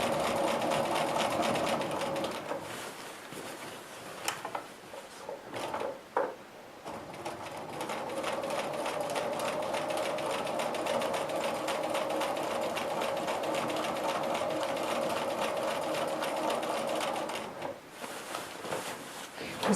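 A sewing machine quilts soft S-curve orange peel lines across the intersections of a large 76 by 94 inch quilt made of 1-inch patchwork. It runs as a steady close hum, broken by short pauses near the middle and again near the end.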